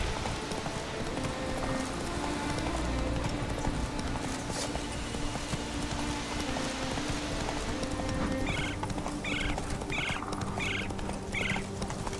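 Roach the horse gallops in The Witcher 3, steady hoofbeats clip-clopping throughout over a busy game soundscape, with a few short whinnies and snorts breaking through near the end.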